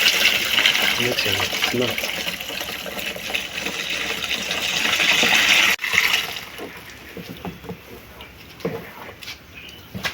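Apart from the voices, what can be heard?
sieving pond water with fish and bitter leaf extract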